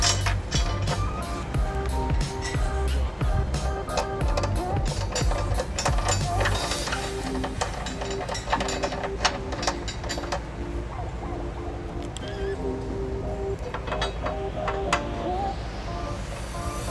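A ratchet clicks in quick bursts as a bolt is snugged into a weld nut while fitting a trailer hitch to a 2014 Honda Odyssey, close metallic ratcheting with light mechanical clatter and no speech.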